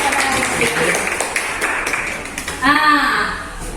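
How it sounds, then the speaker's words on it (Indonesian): Scattered hand clapping from a classroom of children at an Islamic Quran lesson, fairly loud and close, with voices speaking over it partway through. "Oke, tepuk tangan dulu untuk kita."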